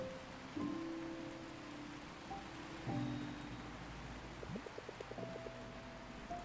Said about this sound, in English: The rain in the city isn't that much better, you know.